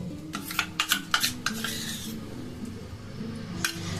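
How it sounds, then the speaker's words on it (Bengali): A spoon stirs chocolate powder into custard mix in a bowl for homemade chocolate ice cream, clinking sharply against the sides in quick close taps for a couple of seconds, then settling into softer scraping with a final clink. "আমি একটু চকলেট ফ্লেভারের করবো বলে আমি এটাকে মিশিয়ে দিচ্ছি।"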